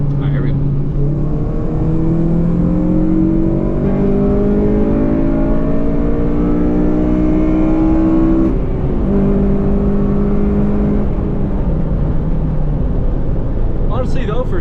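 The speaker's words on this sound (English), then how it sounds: "when VTEC hits, it gets quite a bit louder" An 8th gen Honda Civic Si engine accelerates uphill in third gear, its loud, rising drone climbing in pitch through the revs before a brief shift dip and a second rising pull, heard from inside the car.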